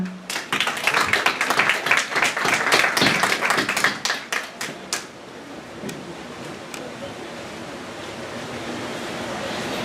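A conference audience applauds, dense clapping close and loud for about five seconds, then thinning to a few scattered claps over a low room murmur.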